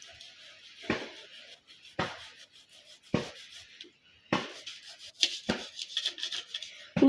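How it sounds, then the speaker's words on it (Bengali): A knife cutting through tough, hard food with thin scales, about six separate crunching, scraping strokes spaced a second or so apart, close and fairly loud against near silence. "দেখো বন্ধুরা, কাটছি,"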